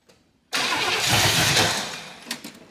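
A 1977 Pontiac Grand Safari station wagon left abandoned for 30 years, its engine cranking with a loud, sustained grinding burst that starts abruptly, then tapers off at close range.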